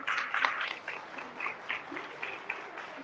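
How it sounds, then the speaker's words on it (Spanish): Audience applause at a community event for migrants, a modest scattered clapping from a small crowd, irregular claps rising and falling over a few seconds. "Un aplauso,"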